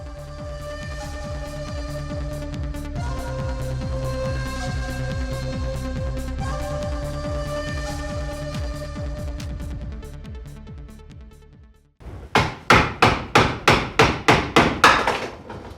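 Debris being knocked out of a steel propane bottle being made into a waste oil burner, a long run of quick metallic rattling taps, then a pause and a series of about ten sharp, ringing hammer strikes.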